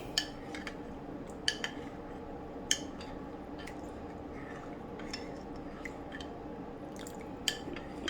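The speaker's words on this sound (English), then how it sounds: "Get my spoon. Mix that in nice." A spoon stirs beef stew in a crock pot, with sharp metallic clinks against the pot at irregular intervals over a soft, wet mixing texture, close and fairly quiet.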